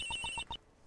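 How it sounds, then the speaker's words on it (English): A phone in the game Ace Attorney Investigations 2 rings out in four quick electronic trills, then stops abruptly. "Phone call. Mind if I take this?"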